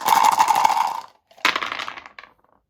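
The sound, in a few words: dice rolling in Axis and Allies board game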